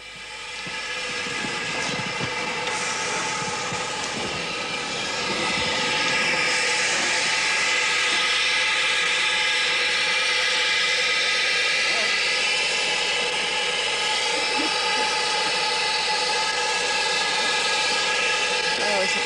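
The Sans Pareil replica steam locomotive starts up at Shildon Wagon Works, a loud, sustained roar and hiss that builds after about five seconds and holds steady, with voices faintly underneath.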